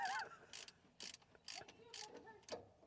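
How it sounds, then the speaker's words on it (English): Ratchet clicking in short bursts, about six quick rattling pulls roughly half a second apart, close and fairly loud, while spark plugs are worked out of a seized Scout 800 Aristocrat engine. "I'm going to pull out these next 3 spark plugs"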